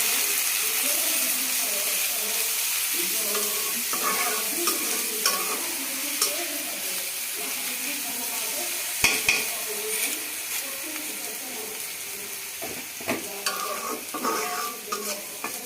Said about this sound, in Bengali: এগুলা খুব ভালো করে একটু ভাজাভুজি করে নিব।